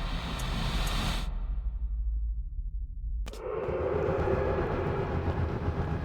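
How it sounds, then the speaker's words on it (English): A train rumbles along in the video game Alice: Madness Returns, a loud steady roar that suddenly drops to a low muffled drone, then a sharp clank brings the full rushing noise back. "My Lizzie, what is this train's destination?"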